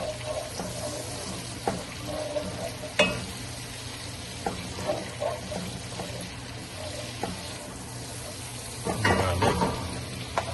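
Butter and garlic frying in a pan, a soft steady sizzle with occasional scraping stirs and clinks, including a louder burst of stirring near the end, no talking.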